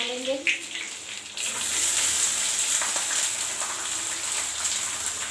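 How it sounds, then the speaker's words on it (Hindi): Garlic fries in a pan, a bright steady sizzle that swells loudly after a quieter start and then holds constant, with no one talking. "लहसुन हल्का पक जाएगा तो प्याज डाल देंगे।"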